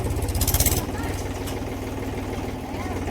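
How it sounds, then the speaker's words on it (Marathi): A farm tractor engine runs nearby at a field where cow manure is being spread, chugging in a steady low rhythm that is slightly louder for the first second before settling into an even idle. "तर नवनाथी ट्रॅक्टर चालू केलेलं आहे,"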